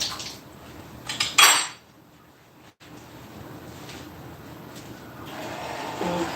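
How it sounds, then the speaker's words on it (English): Dishes being washed by hand, with pots, pans and cutlery clattering in a sharp loud burst near the start, then quieter rattling and running water close by. "Now, let me finish doing these dishes."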